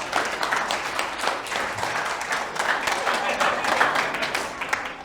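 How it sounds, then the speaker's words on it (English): Audience applause after a speaker at a pitch event, steady dense clapping across the whole stretch with some voices mixed in. "Give her a big round of applause."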